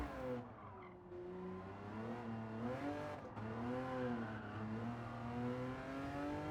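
A race car in Gran Turismo 7 revs and shifts through gears on the last lap, its engine note rising and falling steadily up close, with brief tyre squeals as it corners.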